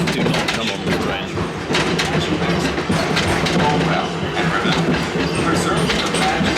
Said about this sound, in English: It's so bumpy on this train.